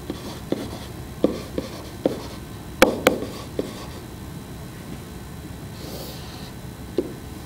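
A hand writes out a short phrase during a geometry lesson, producing several close, sharp pen taps and scratchy strokes spaced irregularly over quiet room tone, with no talking.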